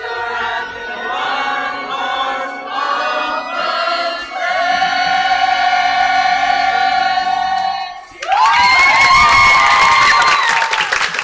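Audience applause and cheering for children after a Christmas song at a Christmas morning Mass, starting suddenly near the end and filling the space loudly, following harmonic singing or organ tones.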